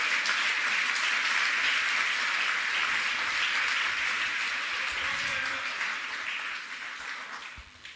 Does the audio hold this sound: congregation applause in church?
yes